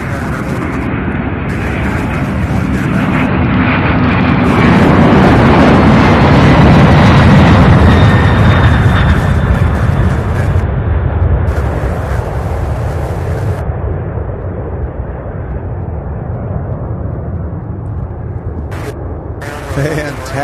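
Heavy UPS jet climbing out on a low departure from Louisville International Airport, a loud, broad roar that swells to a peak midway and then slowly fades into the distance, with a voice speaking over it.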